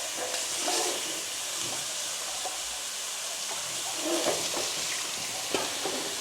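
Onions sizzle in a hot pan with a bright steady hiss of frying, and occasional light scrapes of stirring break through at close range.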